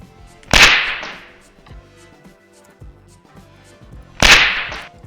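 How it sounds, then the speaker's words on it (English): Two sharp, loud cracks like hard stones struck together, separated by a few seconds of faint clicking and scraping. "rock hit each other for the wall sound"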